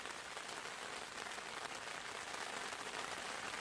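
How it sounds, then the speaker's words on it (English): Rain patters steadily on a tarp sheltering a solo hiker's camp on a ridge trail, a soft continuous hiss of dense drops, fairly faint and even throughout with no voices. "it's started to rain. So you can probably hear that on the tarp."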